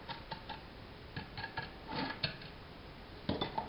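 Fork pressing and crushing lumps in a pineapple upside-down cake pan: soft, irregular clinks and scrapes of metal on the pan, close and quiet, with no talking.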